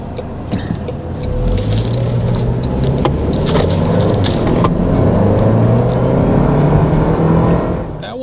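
The turbocharged four-cylinder engine of a 2024 Toyota Land Cruiser revs up under acceleration, a low rising drone building steadily from inside the cabin, with small rattles and clicks over it.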